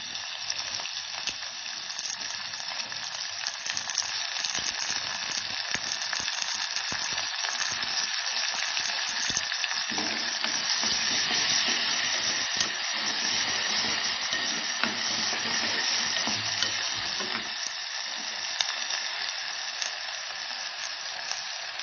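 Chopped tomatoes frying in a pan for a spicy Kolhapuri matki curry, a loud continuous sizzle with faint stirring crackles throughout and no talking.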